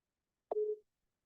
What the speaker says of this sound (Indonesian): saya telepon ya sebentar